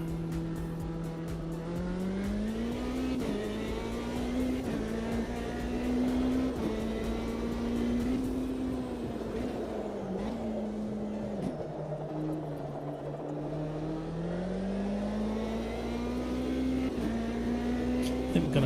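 A race car engine in the Automobilista 2 sim racing game holds a steady loud drone, its pitch rising and falling with throttle and gear changes, with brief tire squeal and no talk.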